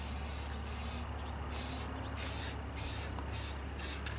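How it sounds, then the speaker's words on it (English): Short repeated bursts of crystal clear spray paint hissing from a can onto a tree root centerpiece, close by, separated by brief pauses, with a steady low hum beneath. "I'm going to use crystal clear spray paint"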